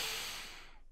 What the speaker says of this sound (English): I'm sniffing some rump ass